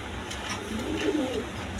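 A male Lahori pigeon gives one short, low coo, close by over a steady background hum.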